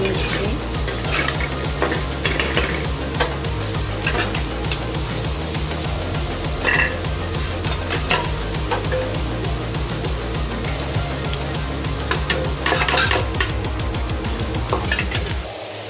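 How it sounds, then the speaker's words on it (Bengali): Fried potatoes being stirred in a sizzling pan, then lifted out, for an egg and potato curry; steady loud frying hiss with repeated close scraping and clinking of a spatula against the pan, no voices. "এই তো আমার আলুটা ভাজা শেষ, এখন আলুটা নামিয়ে নিব।"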